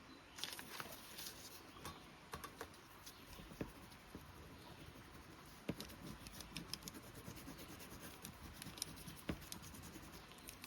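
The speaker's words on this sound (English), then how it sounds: "You can make marks with your crayons on the brown paper." Soft, steady scratching and rubbing of a crayon on brown paper, faint and continuous with occasional light taps, close by and without voices.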